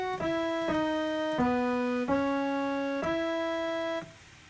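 Piano playing the second part of the theme song, a short phrase of clear single notes struck one after another at a steady moderate pace, ringing and sustained, with the last note fading out at the end, no voices.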